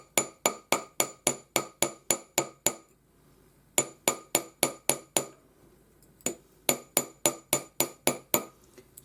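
A hammer strikes a metal disc on an anvil, working a radiating pattern for pearl disc earrings. Bright, ringing taps land close and loud in quick even runs of eight to ten blows, split by short pauses.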